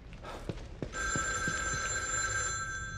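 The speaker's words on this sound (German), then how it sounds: "Telefon." A telephone rings in the horror video game The Evil Within 2, a bright, sustained electric bell that starts about a second in and keeps going, preceded by a few soft footsteps.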